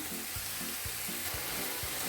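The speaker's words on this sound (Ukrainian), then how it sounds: "В цей момент додаємо томатну пасту, розведену кип'яченою водою." Vegetables for autumn vegetable caviar or stew sizzle steadily in a pan as tomato paste diluted with boiled water is added, with rhythmic low stirring thumps repeating about every half second under the frying hiss.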